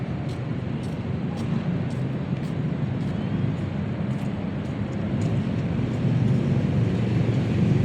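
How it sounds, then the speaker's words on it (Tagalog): A train rumbles past close by at night near a river, a steady broad roar holding through the whole stretch and swelling slightly toward the end, with faint rhythmic clicks above it. "Ayan ang train"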